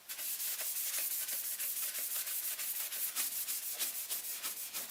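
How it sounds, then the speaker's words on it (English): Cellulose sanding sealer is rubbed onto an off-centre wooden vase spinning on a lathe, producing a continuous dry, hissing friction sound with a fast, regular pulsing rhythm, close and steady throughout. "now I'm going to finish it with some cellulose sanding sealer, Yorkshire grit and Hampshire sheen eye gloss"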